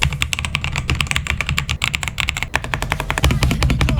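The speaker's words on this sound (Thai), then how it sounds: "เฟลลิ่งการพิมพ์ก็ถือว่าใช้ได้อยู่นะ" Rapid, steady typing on an AJAZZ AK820 MAX mechanical keyboard: dense, crisp key clicks rattle close and loud throughout, with no voices.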